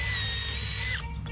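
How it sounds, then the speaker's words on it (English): A power drill bores small holes around the trunk of a tree during a pesticide treatment, a loud high-pitched whine that holds steady for about a second, then cuts off and leaves a lower mechanical hum. "they drill small holes around the trunk"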